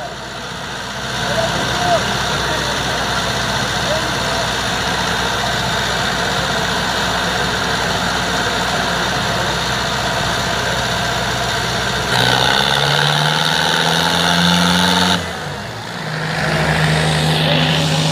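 Tractors such as a John Deere 5310, Swaraj 855FE, Sonalika 60 or Preet 6049 rumble steadily at a tug-of-war contest, a loud continuous engine drone that shifts pitch near the end, with a commentator talking over it.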